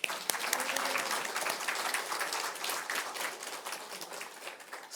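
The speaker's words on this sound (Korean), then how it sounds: "하나님 감사하다고 박수 한번 합시다" A church congregation claps together during a Sunday worship service, a brisk, even round of many hands heard at moderate distance and sustained for several seconds.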